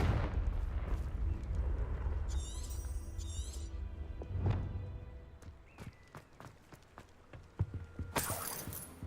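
A Confringo fire spell in a Harry Potter video game bursts with a rumbling blast over a low roaring background, followed by scattered clicks, footsteps and bright magical chimes.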